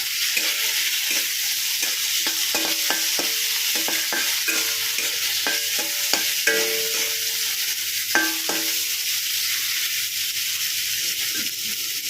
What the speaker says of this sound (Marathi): आपण त्यामध्ये आता टॉमॅटो टाकणार आहोत टॉमॅटोही छान असा परतून घेणार आहोत